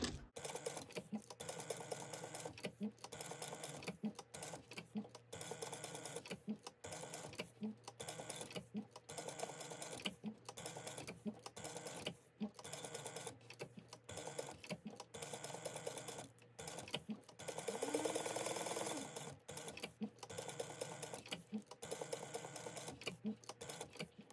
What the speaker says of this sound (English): go ahead and sew all the way around this at 1/8 of an inch